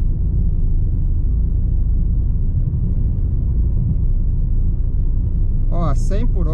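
Inside a 2018 Ford Ka 1.5 SEL cruising at 100 km/h around 2,600 rpm with the air conditioning on, a loud, steady low engine and road drone fills the cabin, and a voice speaks briefly at the very end.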